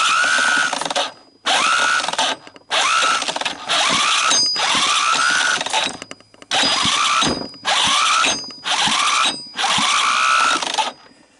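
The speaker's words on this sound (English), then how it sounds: "Let's hope the electric starter has that much left in it" The electric starter on a Honda ATC200M cranks the engine during a compression test, in eight loud, laboring bursts of about a second each, separated by short pauses.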